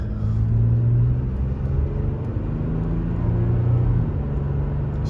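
A 2023 Toyota Tacoma SR5 4x4 with Fox suspension cruising on an open road, steady low engine drone and road rumble heard from inside the cab, with a slight shift in pitch partway through.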